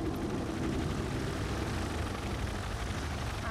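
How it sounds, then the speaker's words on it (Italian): Aircraft engine drone in the war strategy video game Tom Clancy's EndWar, a steady loud broadband roar holding throughout with no speech. "Tutti gli aeromobili in quota."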